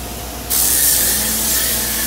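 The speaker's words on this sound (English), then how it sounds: "They're going to spray down all the touch points that you and our crew will be touching with the" Sanitizing mist bursts from a sprayer onto car touch points at a car wash, a sudden continuous loud hiss that starts abruptly and holds steady to the end.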